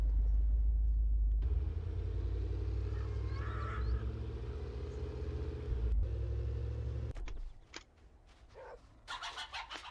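A car engine in the 7 Days To Die video game rumbles steadily and loudly while driving, a deep continuous drone that cuts out abruptly near the end, leaving faint ambient game sounds and chirps.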